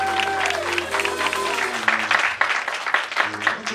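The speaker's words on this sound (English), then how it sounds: "If you all please would give God a hand clap for the man, Thomas Robinson." A church congregation claps for its pastor, steady applause running throughout, mixed with cheering and organ or keyboard chords underneath.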